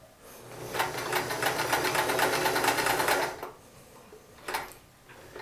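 A Sears Kenmore 158 series free arm sewing machine stitching: a fast, rhythmic mechanical chatter running steadily for about three seconds, then stopping, followed by a short second burst, close and clear.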